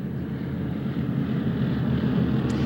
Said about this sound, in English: You can actually hear the jets flying over us in the sky right now.